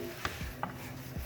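A utensil chops and scrapes browning ground turkey in a hot pan, giving three sharp taps against the pan over a low sizzle, with no talk.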